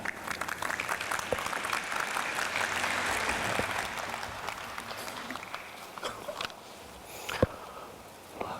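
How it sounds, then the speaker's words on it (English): An audience at the World Knowledge Forum 2019 gives a round of applause as a speaker comes to the podium, a moderate, sustained clapping that thins out toward the end, with a few sharp individual claps and footsteps. "with a big round of applause"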